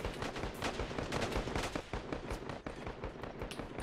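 Dense machine gun fire from the Call to Arms battle game, a close, steady crackle of rapid shots with overlapping bursts and sharper individual cracks, continuous across the whole stretch with no speech.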